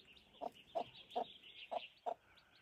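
A chick and a hen on a wooded mountainside cluck in five short, evenly spaced calls, each clear and fairly close, over quiet background hiss.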